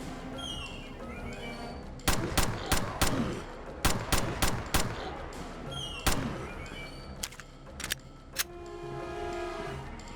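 Gunfire in the horror video game Mansion of the Dead: loud, sharp shots come in quick clusters of several rounds, followed by a few scattered single shots over a low, droning ambience.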